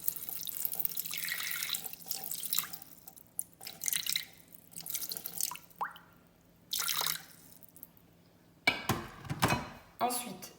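Water is poured into a Thermomix bowl in a kitchen, coming in several short splashing bursts with pauses between them, close and fairly quiet.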